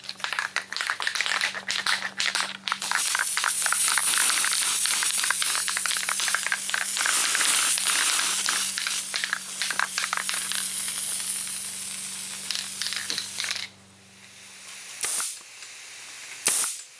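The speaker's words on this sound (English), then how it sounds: "Then I go ahead and spray the middle and work my way to the end" Adhesive sprays onto fleece for custom fiberglass door panels in a long, loud, continuous hiss lasting about ten seconds, framed by clicks and rattles, then short bursts near the end.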